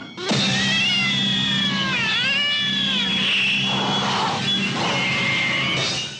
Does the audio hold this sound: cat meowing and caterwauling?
yes